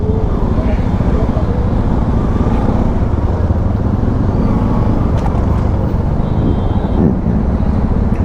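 Steady, loud road traffic from a riding vantage on a Kerala route, a dense broadband roar of car and motorcycle engines that fills the whole stretch without pause, with faint voices mixed underneath.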